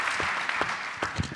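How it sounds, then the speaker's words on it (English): Audience applause at a festival debate, a short burst of clapping from a modest crowd with distinct individual claps. "Let's give Jan Rikard from Recolta a round of applause."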